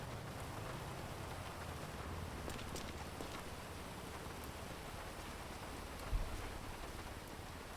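Steady rain hisses down in a Grand Theft Auto V street scene, an even, moderate wash of drops with a brief louder thud near the end and no talk.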